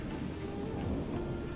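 Steady rain falls in a dense, even hiss, close and constant throughout, with no other sounds standing out.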